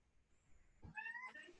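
A house cat gives a single short meow after a quiet stretch with a brief thump, the cry faint and fairly close with no talking over it.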